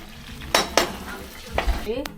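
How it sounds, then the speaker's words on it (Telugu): Food sizzles in hot oil while cooking a fish gravy, and a utensil scrapes and clinks against the pan a few times, near and moderately loud. "పచ్చి వాసన పోయేటట్టు వేయించుకుంటూ పెట్టాలి"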